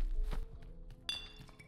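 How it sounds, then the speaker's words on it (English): A bottle dropped in a video game lands with a hollow thunk followed by a glassy clink and brief ringing ping, set against quiet background noise and faint thuds. "He dropped the bottle."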